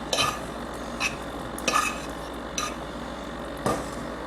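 A fork scraping and tapping in a baking dish while spreading a meat mixture over lasagna noodles, giving several short scrapes with pauses between them.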